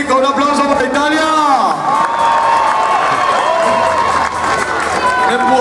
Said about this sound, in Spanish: Por favor, público, un aplauso para Italia.